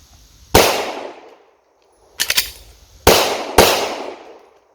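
Sharp, loud handgun shots crack out as magazines are emptied: a single report, a quick cluster of two or three, then two more spaced shots, each ringing briefly and decaying into quiet between bursts.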